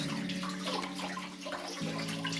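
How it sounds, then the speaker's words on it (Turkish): Vegetables being washed for salad under a running kitchen tap, a steady close water stream with a humming tone and no talk. "Sebze yıkıyorum ya."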